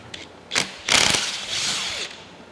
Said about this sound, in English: since I got the impact gun out, we'll take advantage of it and use it